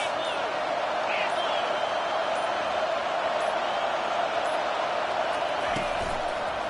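Roaring stadium crowd at a college football game between SEC and Big Ten teams, a loud, dense, continuous wash of cheering noise throughout, with a faint thud near the end.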